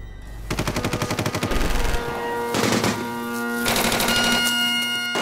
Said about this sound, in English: The air echoed with gunfire